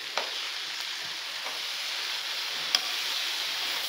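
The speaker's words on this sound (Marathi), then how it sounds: "ते आपण आता यामध्ये मिक्स करून घ्यायचं आहे." Tomato puree being stirred into a sizzling masala in a pan, giving a steady close crackle and hiss with a few faint clicks of the spoon, no voices.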